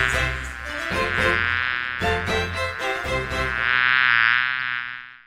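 A dense, steady insect-like drone of buzzing bees around a beehive, loud and close, holding on without a break and swelling slightly toward the end, with no voices.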